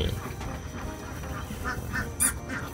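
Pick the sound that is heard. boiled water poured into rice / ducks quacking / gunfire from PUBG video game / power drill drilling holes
ducks quacking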